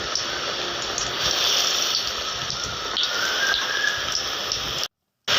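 Brinjal bajji, battered eggplant slices, frying in a pan of hot oil, giving a steady, dense crackling hiss like heavy rain that cuts out briefly near the end.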